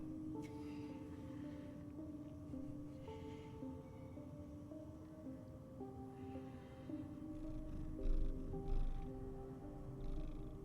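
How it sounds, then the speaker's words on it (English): A house cat purrs close to the microphone, a steady low rumbling hum that continues throughout, with faint background game music and a few soft thumps near the end. "know if you can hear the purring."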